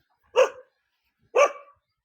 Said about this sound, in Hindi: और ये कुत्ता भौंक रहा है।